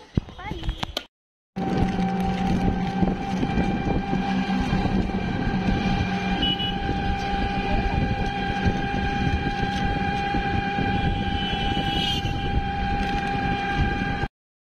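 A train rolls into a station with a loud, steady rumble that continues for most of the stretch after a short gap at the start, and faint voices sound under it.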